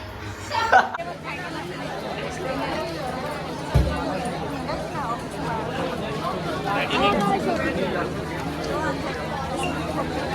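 Dense chatter of a crowded restaurant in Mahabaleshwar, many overlapping voices forming a steady hubbub close around, with a couple of sharp knocks or clatters early on.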